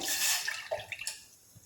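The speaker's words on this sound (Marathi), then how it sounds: "त्यासाठी 1 कप पाणी घालायचं आहे।" Water pours into a steel pot on the stove, a bright rushing splash that settles into a few gurgles and drips before stopping.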